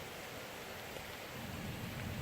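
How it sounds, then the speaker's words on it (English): Rain pours down outdoors, a dense, continuous hiss of drops striking surfaces, steady and fairly loud, with no voices. "It's raining."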